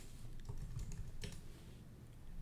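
Someone types a settings name on a computer keyboard, a close run of quick, uneven keystrokes that thins out and stops, with no speech.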